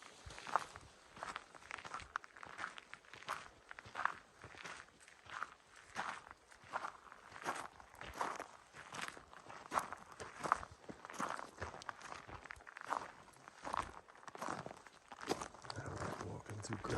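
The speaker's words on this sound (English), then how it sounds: "Walking through gravel. It's too noisy." Footsteps crunch steadily along a gravel hiking trail on Yellowstone's Big Horn trail, near a creek, a regular walking rhythm of close, noisy steps that fills the whole stretch.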